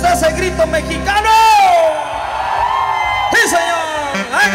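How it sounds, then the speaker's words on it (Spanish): A loud Mexican grito rings out at a live concert, rising and wavering over crowd noise and music, followed by more shouting from the stage. "¿Dónde está ese grito mexicano?"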